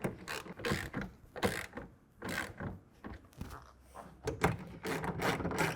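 A ratchet tightening a tonneau cover clamp on a 2024 Toyota Tacoma during a Truxedo TruXport soft roll-up install, heard as close, loud bursts of rapid clicking in repeated strokes with short pauses between them.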